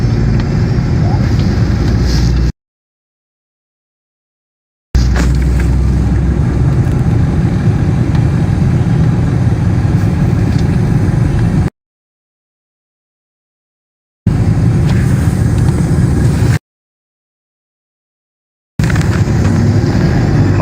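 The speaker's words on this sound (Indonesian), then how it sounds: "Macet." City street traffic jam in Makassar, Indonesia: a loud, dense rumble of engines and vehicle noise, close by, cut by several stretches of silence.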